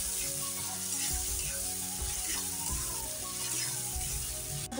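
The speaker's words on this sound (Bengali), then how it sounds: "মশলাটা দিয়ে নেড়ে চেড়ে নিচ্ছি" A water-mixed spice paste is stirred into a pot of paneer and taro curry, under a loud, steady, close sizzle that carries through the whole stretch.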